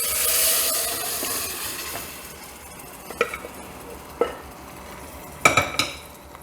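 Partly cooked mutton from a pressure cooker is tipped into masala in a pan for Kerala-style mutton curry, with a soft sizzle under scattered clinks and scrapes of a utensil against the pan.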